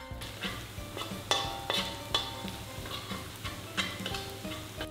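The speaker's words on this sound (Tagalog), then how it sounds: "dapat hinahalo natin para maging pantay yung pagkakaluto" Garlic frying in oil for arroz caldo sizzles under a rhythmic run of spoon scrapes and clinks against the pot, roughly one or two strokes per second, close and clear; no one speaks.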